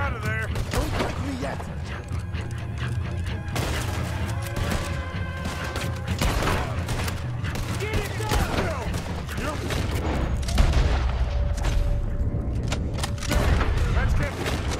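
Gunfire in the Red Dead Redemption 2 video game on Guarma, a dense run of shots and crashes with mechanical clatter throughout, a voice talking over the action at times.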